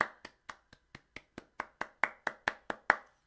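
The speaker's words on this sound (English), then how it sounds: "Give a round of applause one time" About fourteen hand claps ring out in a steady, even rhythm, each a crisp separate smack that grows slightly louder toward the end, with no crowd joining in.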